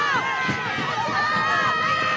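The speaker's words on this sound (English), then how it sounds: "This crowd has gotten to a fever pitch." Spectators at a high school football game between SSFHS and Gunderson keep up a steady, loud roar of cheering and shouting, dense and continuous throughout.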